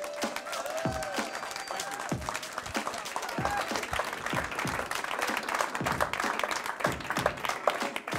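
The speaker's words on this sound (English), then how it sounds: "Let's give him a rousing round of applause." An audience claps to welcome a speaker to the stage at a gathering, with sharp individual claps standing out over a sustained round of applause while faint voices and musical tones sit underneath.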